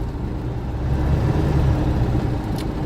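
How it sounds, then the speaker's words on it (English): A 1960 Volkswagen Beetle convertible cruises along, heard from the driver's seat as a steady, loud low engine rumble with road noise and no talking. "Take a little drive in the Bug."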